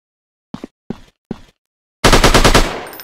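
Gunfire in a sniper shooting video game: three separate single shots, then a loud, rapid automatic burst that rings out into a fading tail, with no voices.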